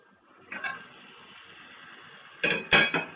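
Half a kilo of shrimp goes into a metal pot for shrimp biryani, heard as a short clattering knock followed by a louder cluster of clinks and scrapes against the pot.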